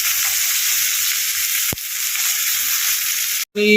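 Onion pieces and whole garam masala fry in hot oil, giving a loud, steady sizzle that runs throughout, broken by one short sharp crackle midway before a brief cut at the end.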